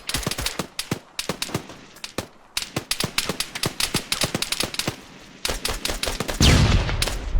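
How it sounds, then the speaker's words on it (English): Rapid gunfire in Arma, made up of dense volleys of sharp, close cracks in uneven bursts, with a brief pause and then a louder, heavier blast near the end. "Shots west."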